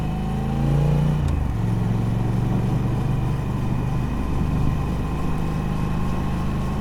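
Motorcycle engine running through stock exhaust pipes, a steady droning hum from close by with a brief rise in pitch early on, then holding an even tone while riding.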